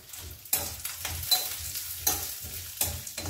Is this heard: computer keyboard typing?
no